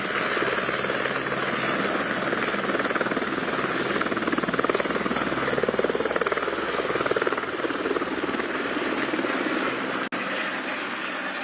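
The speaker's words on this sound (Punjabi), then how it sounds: "ਤਾਂ ਹੁਣ ਉਡਾਰੀ ਭਰੀ ਜਾਏਗੀ ਆਵਾਜ਼ ਤੁਸੀਂ ਦੇਖ ਸਕਦੇ ਹੋ" A helicopter's rotor and engine roar steadily and loudly at close range as it takes off, a dense whirring drone that holds constant throughout.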